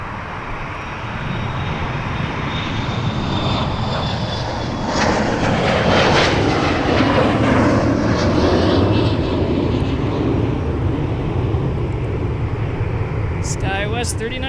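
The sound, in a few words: SkyWest airliner taking off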